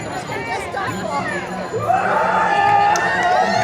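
A crowd at a dragon boat event cheers and shouts for the boat's tiller, a mix of excited voices and chatter that grows louder partway through, with a few high shouts rising above it.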